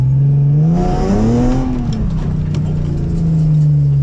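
A Nissan 370Z engine revving hard during a burnout, a loud sustained roar whose pitch climbs, dips and holds steady for about four seconds, close and continuous, with no talking.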